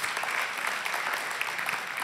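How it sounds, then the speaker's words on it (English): A church congregation claps in a steady, dense round of applause that fills the room, loud and continuous, with no voices rising above it. "All right, give them a round of applause right here"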